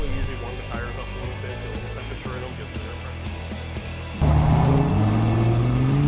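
A McLaren 600LT or similar track-built sports car engine drones steadily with tonal harmonics, then surges louder and revs higher near the end, accelerating along the Nelson Ledges road course.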